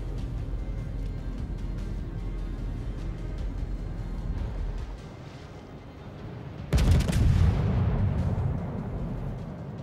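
A heavy naval gun salvo from the Italian battleship Conte di Cavour in a warship game booms out partway through, a sudden loud blast with a rumbling tail over low engine and sea drone.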